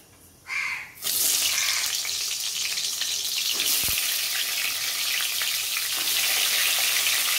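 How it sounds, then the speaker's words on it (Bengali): Fish heads drop into hot oil with a sudden loud burst of sizzling that settles into a steady, close frying hiss, heard alone throughout. "মাছের মাথাগুলো এবার ভেজে নেব।"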